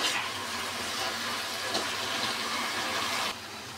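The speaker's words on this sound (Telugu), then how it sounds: "ఇగో ఇట్లా ఉడుకుతుంది చూడండి ఫ్రెండ్స్" Gongura leaves and onions cooking in hot oil in a pan, a steady broad sizzle that runs continuously before dropping slightly at the end.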